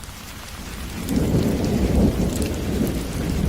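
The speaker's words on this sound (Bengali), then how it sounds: "ঠিক তখনই বাইরে প্রচণ্ড ঝড় বৃষ্টি শুরু হয়।" Cartoon thunderstorm effect on a stormy Baishakh night: steady heavy rain hisses, then a deep, rolling thunder rumble swells in after about a second and stays loud and close to the end.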